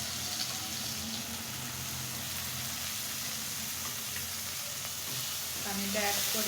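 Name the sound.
sautéing spiced shing fish dopiaza with water in pan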